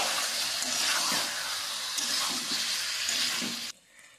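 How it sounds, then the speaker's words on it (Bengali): Bihari-style chicken stirred and fried in a pan, a steady loud sizzle with scraping stir strokes throughout, cutting off abruptly near the end. "নেড়ে চেড়ে কষিয়ে নিতে হবে ভালো করে।"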